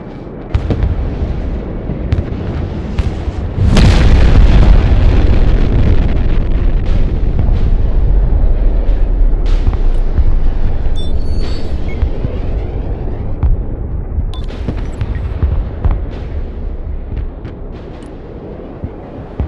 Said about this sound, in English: Wait, we're doing a nuke.